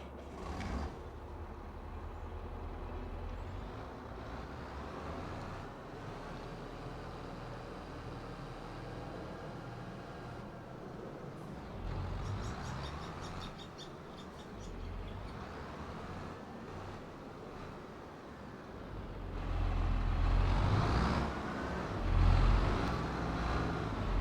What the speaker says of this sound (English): We're gonna use the big tractor though